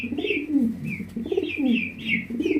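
Lahori pigeons coo in a steady rolling rhythm, several soft throaty calls repeating close by, with a few higher chirps from other birds mixed in behind them.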